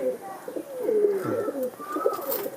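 A tournament racing pigeon coos close by in soft, repeated throaty calls, with faint chirps and light background noise around them.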